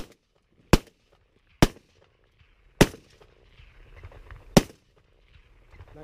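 Four sharp gunshots ring out while hunting geese on Sauvie Island, Oregon, spaced about a second apart, loud and close, with faint rustling between them and no talk.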